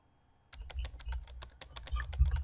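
Rapid keyboard typing from the Emily is Away Too computer game, a quick run of crisp, irregular key clicks close up with no talking.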